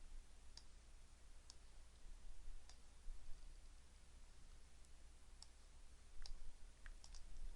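Computer mouse clicks while laying out an application on screen, faint isolated clicks spaced irregularly, some in quick pairs, over a quiet room hiss.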